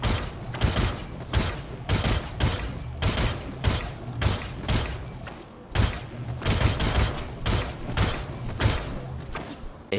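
Rapid bursts of gunfire in the space game Star Citizen during a multiplayer narcotics-raid mission, sharp repeated volleys with short pauses between them, fairly loud and steady throughout.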